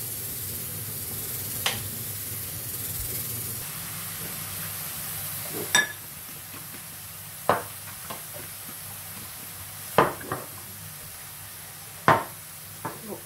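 Food cooking in a home kitchen pan, a soft steady hiss of sizzling with several sharp scrapes and clacks of a utensil stirring at irregular intervals, close and fairly quiet, no talk.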